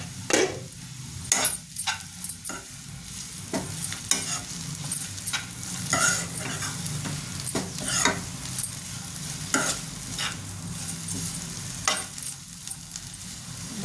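Ivy gourd pieces frying in a pan for an Andhra-style fry, a steady low sizzle broken by frequent scraping stirs of a spatula against the metal, close and clear with no talk.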